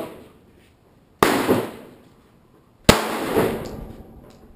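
Two sharp gunshots at a McAllen shooting range, loud and close, about a second and a half apart, each followed by a ringing echo that decays in the lane.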